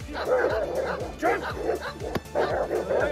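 A Moscow Watchdog barks repeatedly during bite training, giving loud, close, rhythmic barks with a few yips and whimpers mixed in, and a handler's voice is heard alongside them.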